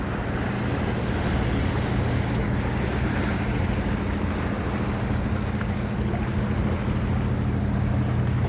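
Steady low rumble of a boat engine passing over water, with continuous wash and wind noise filling the whole stretch.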